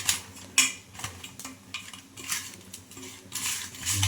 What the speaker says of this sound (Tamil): நல்லா கிளறி விட்டுக்கலாம் ஃப்ரெண்ட்ஸ்